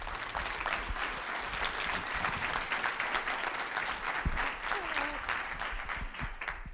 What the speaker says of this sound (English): That was like paltry applause for several amazing presentations.